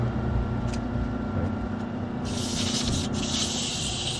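Sandpaper of 100 grit rubs back and forth by hand at close range, a steady gritty scraping with brief bursts of harsher hiss near the end, and no one talking.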